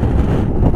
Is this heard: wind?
yes